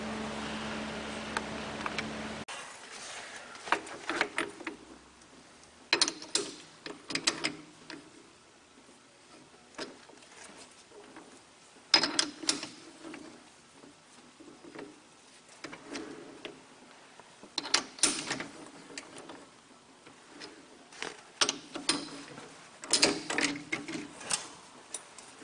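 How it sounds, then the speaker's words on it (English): A machine cuts metal stock for a hydraulic piston in a shop, giving bursts of rhythmic ticking and clattering that recur every few seconds between quieter pauses, with no talking. "Let's get to cutting some metal."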